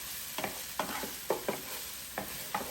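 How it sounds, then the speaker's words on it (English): Onions and garlic sizzle softly in a pan, punctuated by six scraping stirs of a utensil at irregular intervals. "You can hear the sizzle and everything."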